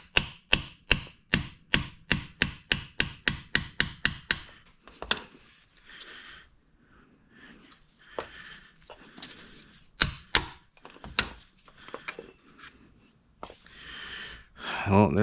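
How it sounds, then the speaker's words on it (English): A 3/8 extension is hammered against a small bearing on a Vespa Rally 200 during a rebuild: a fast, even run of about fifteen sharp metallic knocks, then scattered lighter taps and handling clatter, close and loud. "to beat that small bearing out, I'm just gonna use a 3/8 extension"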